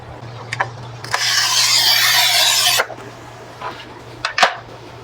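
A diamond cutter scores a sheet of glass for an aquarium filtration setup, a single harsh, steady scrape lasting under two seconds, close and loud, with a few light clicks and taps around it.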